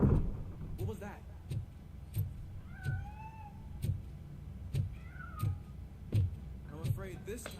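A cat in the video game Robocop: Rogue City gives a few short, rising meows over a rhythmic pattern of thuds, with someone talking in between.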